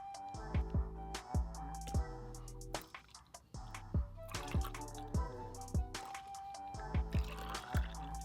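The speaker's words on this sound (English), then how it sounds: "Now let's pour it into the molds." Juice is poured into popsicle molds in repeated short bursts, with trickles and drips landing between pours and a clear ringing tone from the molds as they fill, close and fairly quiet.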